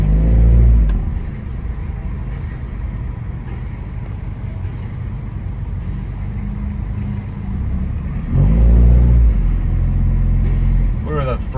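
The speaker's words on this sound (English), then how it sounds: "So let's see how we hear exhaust from our operator's seating position." Exhaust of a Toyota Land Cruiser LJ78 turbo diesel heard from the driver's seat with a window open, a steady low drone that swells into louder rumbling bursts near the start and again later, with talk over it.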